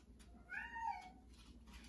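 A single short cat meow sounds faintly indoors, alone, with no speech over it.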